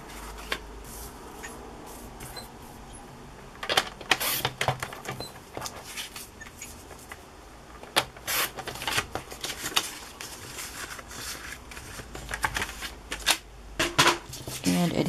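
Paper being trimmed with scissors, a series of irregular crisp cuts and rustles at close range, busier toward the end, with no one talking.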